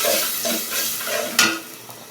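Spices with turmeric and chili powder are stirred in a frying pan, giving a short run of scraping, swishing strokes over a low sizzle, ending with a sharper scrape.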